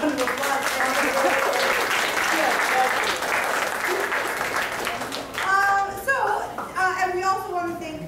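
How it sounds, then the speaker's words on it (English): An audience applauds the teachers at a children's class performance on a stage, steady clapping filling the room for several seconds before it thins out as children's voices and chatter come through near the end. "let's please give them a round of applause"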